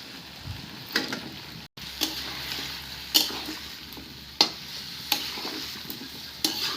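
Jackfruit pieces and spices sauté in a pan, giving a low background sizzle punctuated by repeated scraping strokes of a spatula at irregular intervals, with a brief dropout early on.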